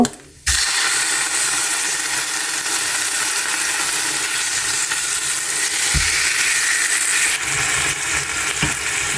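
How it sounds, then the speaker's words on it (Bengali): Hilsa fish pieces frying in hot oil give a loud, continuous sizzle after a brief quiet start, with a couple of dull knocks from the pan partway through. "বাকি যে মাছগুলো আছে সেগুলোকে আমি ভেজে নেব।"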